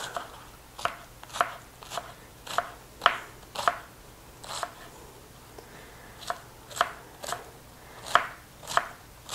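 A knife slicing cabbage thinly on a cutting board for pineapple coleslaw, heard close up as a steady run of crisp, evenly spaced cuts with no talking.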